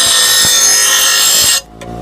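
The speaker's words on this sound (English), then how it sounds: "Now I've got a skill grinder here." A Skil bench grinder runs with a steady loud whining hum for about a second and a half, then cuts off sharply, leaving a faint low residual whir.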